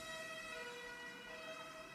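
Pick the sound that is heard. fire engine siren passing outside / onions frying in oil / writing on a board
fire engine siren passing outside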